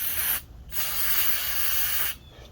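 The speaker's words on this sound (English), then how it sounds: "I gotta get some brake cleaner, clean this plug off" Brake cleaner sprayed onto a Murray mower spark plug in two loud, close hissing bursts separated by a short pause.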